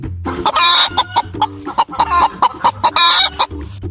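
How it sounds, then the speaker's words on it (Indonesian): Chickens cluck repeatedly in short bursts, close by, with a busy rhythm of overlapping calls and no talking. "dua ayam yang sedang mencari cacing"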